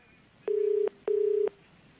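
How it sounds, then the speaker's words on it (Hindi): Two long, steady telephone tones from a call being placed from a control room, each lasting under half a second, separated by a short pause, clear and alone with no talk. "माला वाजपेयी को पैनल कंट्रोल रूम से हमारे फोन मिलाया जा रहा है"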